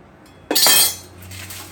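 A metal knife clinks sharply against dishes in a home kitchen while chicken is being prepared, one bright ringing strike that quickly fades, close and alone.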